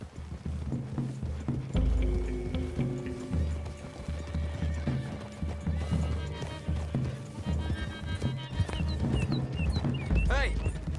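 Horses' hooves clip-clop steadily through a wooded clearing in the Red Dead Redemption 2 video game, with a horse whinnying and game characters talking, all over a layer of background music.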